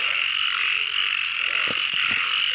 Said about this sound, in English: Yeah, this frog's all over the place.